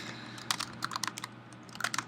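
Quick bursts of typing on a computer keyboard, a few close, light key clicks in short irregular clusters over a quiet room hum.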